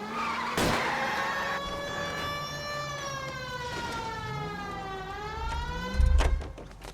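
Tires skidding during a car chase in L.A. Noire, a long screeching whine sliding up and down in pitch over a wailing siren and engine, ending in a heavy thud.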